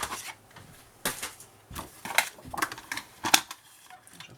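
Paper being cut for a scrapbooking box with cards, heard as a series of sharp, close snips and crisp rustles in an irregular rhythm, with no talking.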